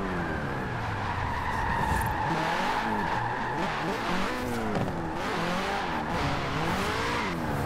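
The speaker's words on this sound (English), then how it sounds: "Some illegal street drifting going on right now here in the downtown section." A car drifts through downtown streets in Forza Horizon 4, tires squealing almost continuously while the engine revs rise and fall in waves, loud and close throughout, with no voices.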